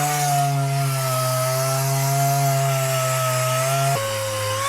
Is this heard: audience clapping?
no